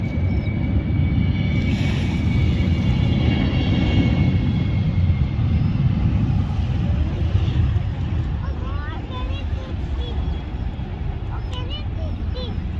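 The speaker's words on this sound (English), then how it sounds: "The plane is flying. You can see the plane." An airplane flies overhead outdoors, a broad low rumble that swells and then gradually fades, with wind buffeting the microphone and children's voices heard near the end.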